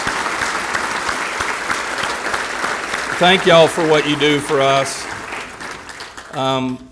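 Crowd applause fills the room as a speaker talks over it, the clapping steady and moderately loud throughout.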